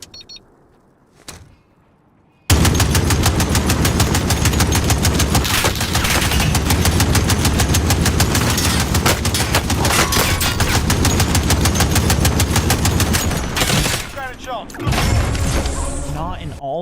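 Sentry gun in the Call of Duty Warzone video game, loud rapid sustained automatic fire lasting many seconds, close and dense, tapering off near the end.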